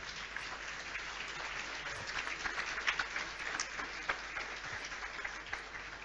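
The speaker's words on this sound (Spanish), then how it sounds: "Vamos, denle un aplauso al Rey de Gloria." A church congregation applauds during a Pentecost sermon, a steady, fairly faint wash of many hands clapping with a few sharper claps standing out, heard from some distance throughout.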